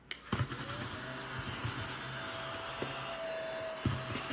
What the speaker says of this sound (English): I can't vacuum up this little scratcher